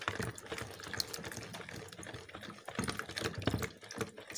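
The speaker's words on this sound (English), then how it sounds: "Stir it for a while." Antiseptic solution being stirred in a container during home preparation of a Dettol-style disinfectant, giving a continuous sloshing, clinking swirl of liquid at close range, steady throughout with no talk.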